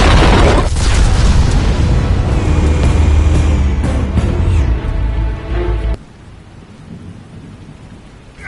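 Explosives detonate in the Batman Telltale Series game, a loud rumbling blast with a long thunderous roll lasting several seconds before cutting off abruptly into a quieter room tone.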